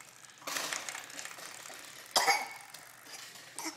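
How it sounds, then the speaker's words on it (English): A baby coughs twice: one drawn-out coughing fit near the start, then a sharper single cough, with a faint short sound at the very end. No one speaks, and a quiet room can be heard between the coughs. "Got a cough. Oh, that one goes a long time."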